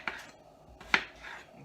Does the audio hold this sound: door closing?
no